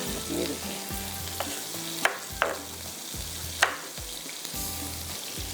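Halved green chillies added to a pan for dhaniya seekh kabab crackle and sizzle steadily, with a few sharp pops and spatters close by and no voices.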